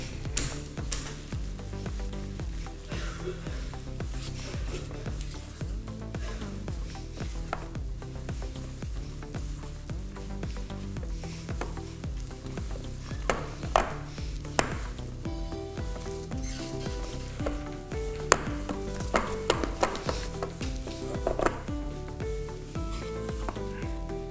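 A thick biscuit dough with lemon is stirred by hand with a spatula in a bowl, giving a steady soft scraping and rubbing that continues evenly throughout with no talking.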